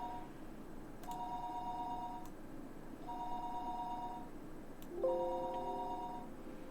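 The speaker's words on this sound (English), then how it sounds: "we're starting right off with a lovely sound of a phone" Electronic phone ring inside the Higurashi video game, heard as three spaced bursts of steady tonal ringing over a low background hum, each lasting about a second and a half.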